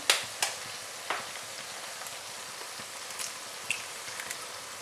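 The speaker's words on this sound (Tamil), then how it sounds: "இப்போ முட்டையை உடச்சி ஊற்ற போகிறேன்" Eggs cracked and poured into hot masala for a Tamil egg curry, the oil already separated, give a soft, low sizzle with a few sharp clicks and pops near the start, then a faint steady hiss.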